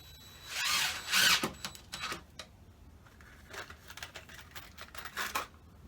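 A power drill drives thick drywall screws into the wood of a beehive during repair, giving a few short whirring bursts followed by quieter clicks and handling noise, close but fairly faint.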